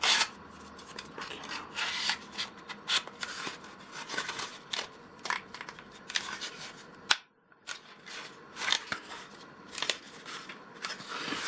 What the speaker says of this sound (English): I've not gone mad on the sanding.